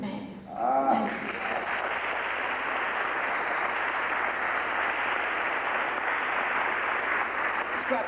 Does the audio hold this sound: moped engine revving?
no